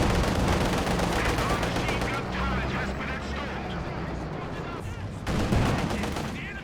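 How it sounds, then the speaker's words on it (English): Company of Heroes 2 battle gunfire, with bursts of machine-gun rattle and heavier shots and booms crackling continuously under a commentator's voice. "Okay, Pack's getting a shot off on the T-70"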